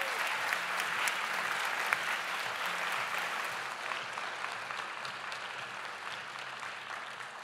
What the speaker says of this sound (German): dicken Applaus bitte